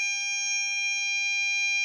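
An anti-bark dog collar on its fourth setting, which beeps and vibrates, emits a continuous high-pitched electronic beep with stacked steady tones, loud and close, lasting the whole moment with faint background noise early on.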